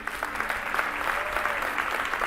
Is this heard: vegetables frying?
no